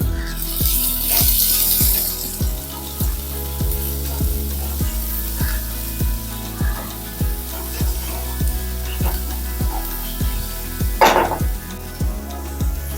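Finely chopped onion fries in hot ginger-garlic paste in a pan, giving a steady loud sizzle, while a spoon stirs and scrapes with regular rhythmic strokes.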